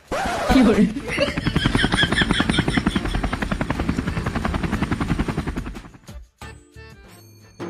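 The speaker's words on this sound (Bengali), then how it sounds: "আমার হেলিকপ্টার ল্যান্ড করার জায়গাটাও তো দেখতে হবে।" A helicopter lands close by, its loud steady rotor chop and engine whine filling about six seconds before the noise cuts off abruptly, with a brief clatter afterwards.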